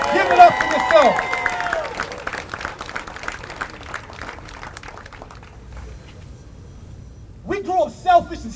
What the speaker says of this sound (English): And a bigger round of applause for every single one of you that came out intentionally to get this game.